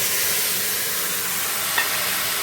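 Spice paste of onion, tomato, chilli, garlic, cumin and Kashmiri chilli powder frying in a kadai, a steady broadband sizzle throughout with a faint stir or scrape near the end, no talking.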